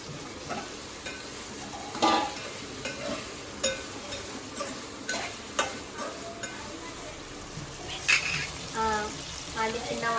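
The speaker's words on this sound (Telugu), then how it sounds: "కట్ చేసి పెట్టుకున్న వంకాయ ముక్కలు కూడా వేసుకొని కలుపుకోవాలి" Cut eggplant pieces being stirred into a frying pan with paste, giving a run of scraping, clinking spoon strokes over a soft sizzle, with occasional sharper knocks and a voice talking at times.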